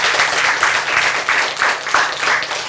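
A church congregation claps together in steady, loud applause, the rhythm of many hands close and continuous with no voices over it.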